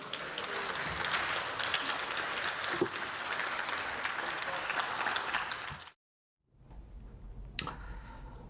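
Lawmakers in the National Assembly chamber applaud in a dense, steady burst of clapping that cuts off abruptly, followed by a brief silence and quieter room noise.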